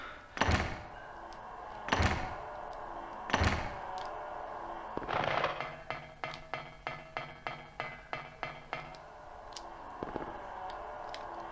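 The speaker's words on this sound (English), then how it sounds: "I really like the sound effect on this door." A heavy door in the Silent Hill video game sewers makes repeated loud thunks, then a rattling, clanking run of regular metallic knocks as it works open, followed by one more thud, with no voices over it.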